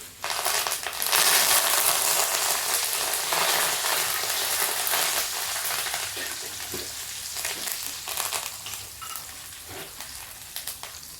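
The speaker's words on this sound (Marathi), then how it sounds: "आता आपण कढीपत्ता टाकत आहोत." Curry leaves dropped into hot oil for poha chivda burst into a loud, close crackling sizzle that gradually fades and thins, with a few stirring clinks near the end.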